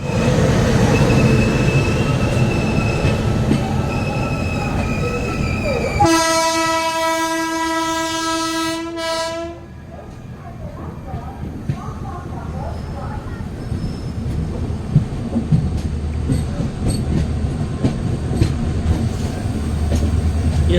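An Indian Railways passenger train made up of ICF coaches behind a WAG9 locomotive, Tapaswini Express heading to Puri, with a loud steady rumble, a long blaring horn blast in the middle, then rolling rail clatter and faint voices.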